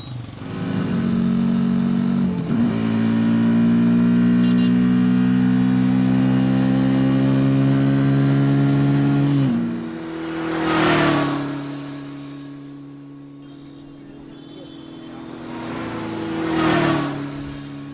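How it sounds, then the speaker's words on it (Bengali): A loud engine hums and drones close by for several seconds, then the pitch shifts as a vehicle passes, followed by a second, fainter pass. "গাড়িটা কি গেল দেখলি?"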